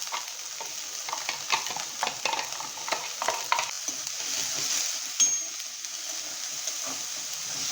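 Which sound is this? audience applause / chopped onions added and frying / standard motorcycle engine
chopped onions added and frying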